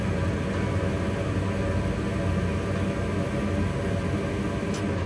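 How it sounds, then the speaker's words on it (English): A furnace runs steadily in the background, a constant broadband rushing hum at moderate level with no other distinct sounds. "Sorry about the furnace noise in the background."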